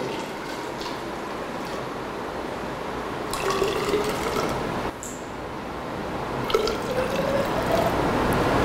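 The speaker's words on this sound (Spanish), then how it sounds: "nosotros le echamos agua a la probeta a un volumen conocido" Water is poured into a graduated cylinder in a lab volume measurement. A steady, close splashing trickle has a filling tone that rises in pitch toward the end, and no one speaks.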